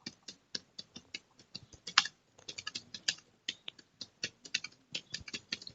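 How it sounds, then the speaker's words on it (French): Typing on the keyboard of a Dell Latitude C610 laptop, a close, quiet run of crisp plastic key clicks at an uneven pace, with an occasional harder tap and no voices. "Donc là on va taper l'auteur dans le vide."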